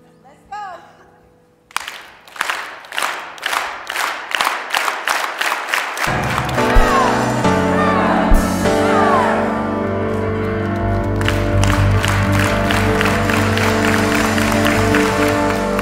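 A church congregation breaks into rhythmic clapping that builds into loud, sustained cheering and applause from a large crowd indoors, with voices mixed throughout.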